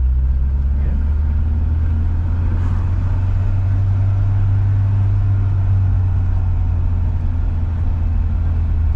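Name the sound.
1973 Citroën car driving in second gear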